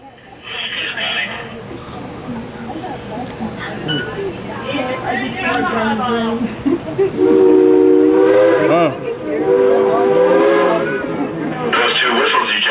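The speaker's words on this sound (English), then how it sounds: "Those 2 whistles you just heard tells us that the engineer has received the all clear" A Dollywood steam train whistle blows, its tonal blasts loud and close amid a noisy park crowd, with people talking throughout.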